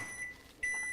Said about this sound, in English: This is only going to take about 10 seconds in the microwave